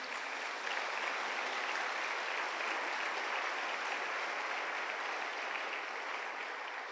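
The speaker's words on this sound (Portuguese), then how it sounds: "Dá um aplauso bem lindo para Ele por isso." A church congregation applauds with steady, dense clapping that holds at an even level throughout, with no speech over it.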